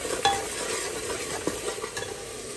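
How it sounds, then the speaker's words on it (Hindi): Masala for a Punjabi-style bottle gourd curry frying in a pan, a close steady sizzle with soft scraping stir strokes and a couple of light utensil taps, no voices. "तो चलिए इसे अभी भुनने देते हैं 5 मिनट के लिए।"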